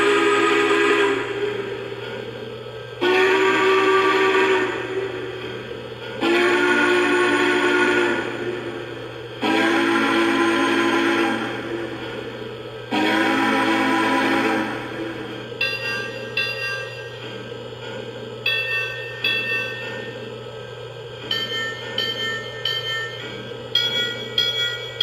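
A Lionel 675 Prairie Freight O gauge model train set runs with a steady low electrical hum, while repeated bell-like tones and rhythmic clicking bursts sound from the locomotive, fairly loud and close.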